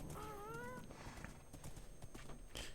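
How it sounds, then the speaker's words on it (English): A Minecraft horse gives a short, wavering whinny near the start, followed by faint hoof clops over steady in-game background noise. "our horse needs to not run away"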